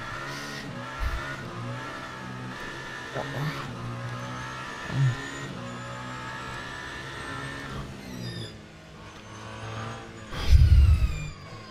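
Onboard race car engine in the Le Mans Ultimate sim racing game, loud and close, revving up and down through gear changes across the lap with occasional sharp thumps.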